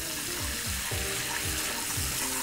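Sugar caramelizing in a hot pan sizzles and fries steadily, with soft repeated scrapes of a utensil stirring it in a regular rhythm, close and alone.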